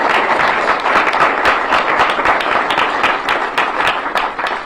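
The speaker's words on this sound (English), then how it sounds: "Please give him a round of applause." Dense, steady audience applause in a City Hall gathering, many hands clapping at once, loud and close, tapering slightly at the end.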